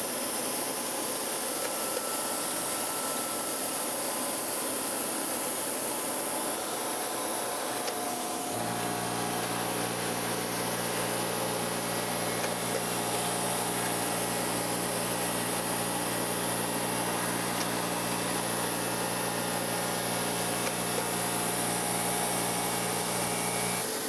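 Grinder dressing the knives of a metal shear, taking light final passes with barely any cutting; a steady whirring drone with rough abrasive noise, louder and fuller after the first few seconds, continuous and close with no talking.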